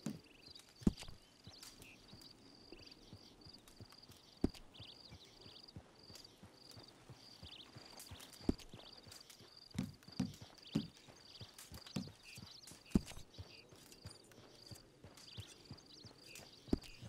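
Horse hooves clip-clopping at a walk in the video game Red Dead Redemption 2, faint and irregular, with sharp scattered hoof knocks over a quiet ambient bed and a steady high tone.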